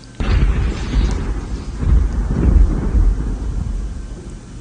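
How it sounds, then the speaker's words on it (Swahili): Rain falling at night in a storm, a steady heavy wash with deep rumbling thunder-like swells rising and falling throughout. "Mvua wakati hiyo inanyesha."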